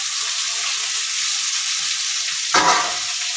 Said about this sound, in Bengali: ফোড়নটা ভালোভাবে ভেজে নিয়েছি। এবার এর মধ্যে দিয়ে দেবো আগে থেকে কেটে রাখা টমেটো